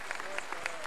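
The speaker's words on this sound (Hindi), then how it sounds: "एक बार जोरदार ताली हो जाए" Audience clapping at a Sanskrit programme with Swami Ramdev at Patanjali Yogpeeth, Haridwar, a steady wash of applause with a few sharper claps standing out, moderately loud and continuous through the brief moment.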